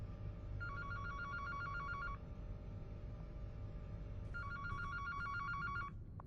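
A telephone rings in two electronic trilling bursts separated by a pause, fairly faint over a low background hum, with no one talking.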